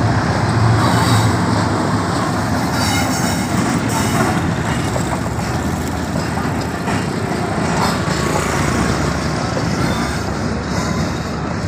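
Khyber Mail passenger train arriving at Rohri station from Karachi, a steady, loud rumble of the rolling train with faint clattering throughout, and no talking.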